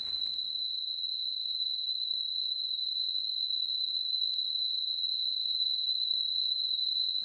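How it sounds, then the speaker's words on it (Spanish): A single steady high-pitched sine tone simulating tinnitus ringing, continuous and even for several seconds, piercing and unchanging, with a faint click partway through. "Este es un ejemplo del zumbido que produce el tinnitus."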